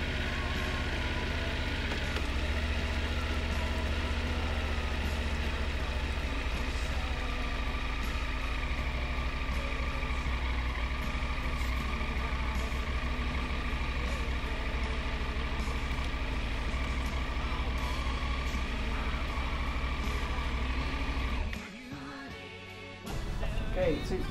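A Triumph Tiger 900 motorcycle engine runs steadily at idle up close after a sprocket change, a continuous loud rumble that holds for about twenty seconds before it cuts off abruptly near the end.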